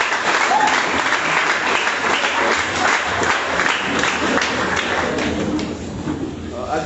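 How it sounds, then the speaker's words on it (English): Sustained applause from a school debate audience fills the whole stretch, dense clapping with crowd noise that eases slightly near the end. "Please, may you clap for her again."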